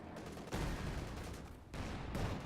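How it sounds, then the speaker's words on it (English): Panzer IV tank cannon firing in a World War II strategy game, heavy booming blasts with a second report partway through, battle noise rolling underneath. "Panzer IV fires a shot"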